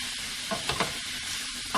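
Shrimp sizzle in a hot pan, a dense, even hiss close up with a few soft stirring scrapes over a couple of seconds.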